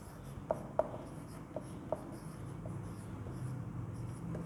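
Quiet pen strokes across paper while a physics problem's object distance is written out, a handful of soft scratches and taps spaced irregularly, close but faint against low room noise.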